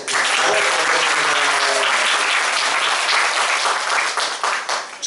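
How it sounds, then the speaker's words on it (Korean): Dense, loud applause from a large congregation at a Korean church worship service, sustained throughout and thinning slightly toward the end. "우리 박수 한번 하겠습니다"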